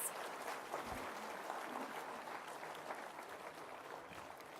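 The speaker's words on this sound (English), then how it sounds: "please join me in the warm round of applause for all our distinguished guests" Steady applause from a conference audience at a formal inauguration, sustained and even throughout, with no voices rising above the clapping.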